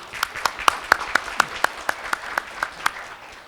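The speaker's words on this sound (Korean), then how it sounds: "박수로 맞아주시죠" Clapping at a Green Big Bang Prelude 2023 forum on mobility and future cities as a Hyundai Motor executive is welcomed: about a dozen distinct, evenly spaced claps, fairly close, with no talk over them.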